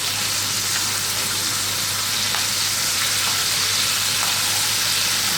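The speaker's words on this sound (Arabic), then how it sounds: "دول معلقتين سمنه احنا حاطين عليهم الفراخ" Chicken pieces fry in two spoonfuls of ghee with a constant, dense sizzle and crackle that stays close and even throughout, with no speech.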